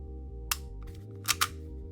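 A TTI AAP01 airsoft pistol with an upgraded trigger fires on semi-auto: one sharp snap, then a quick pair of shots close together, crisp and close amid a low steady hum.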